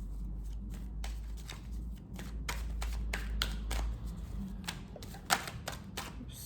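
A tarot or oracle deck is shuffled close up for a singles' weekend reading. Rapid, crisp riffling and card slaps repeat in irregular bursts over a low hum, with no talking.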